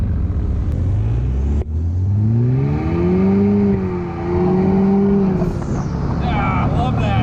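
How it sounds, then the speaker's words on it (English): A turbocharged vehicle accelerates at the Sturgis motorcycle rally, its engine note climbing and falling in pitch through a loud, close run, with a brief break early on and the turbo whistle rising toward the end. "Love that turbo, man."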